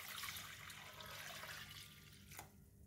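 Water runs and splashes steadily into a large basin as anchovies are washed, a soft continuous rush with no voices and a brief clunk near the end.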